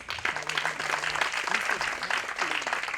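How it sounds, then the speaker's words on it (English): Applause from an auditorium audience for a startup pitch team at an idea pitch event, a steady, moderate patter of clapping that runs throughout with faint voices and a brief tonal hum underneath. "Can we please have a round of applause for them?"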